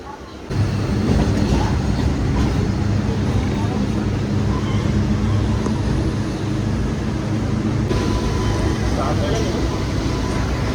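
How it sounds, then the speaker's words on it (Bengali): A passenger train departing near Howrah in West Bengal, heard from inside as a loud continuous rumble and rattle of the carriages that runs steadily throughout. "ছেড়ে দিয়েছে আমাদের ট্রেন"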